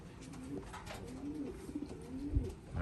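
Racing homing pigeons cooing during pairing, soft repeated low coos near and close under faint background noise.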